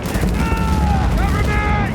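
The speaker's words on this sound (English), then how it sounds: "Machine gun!" Machine gun fire in the Battlefield Bad Company 2 campaign rattles loudly and continuously through a short burst of dense combat, with whistling tones and game voices layered underneath.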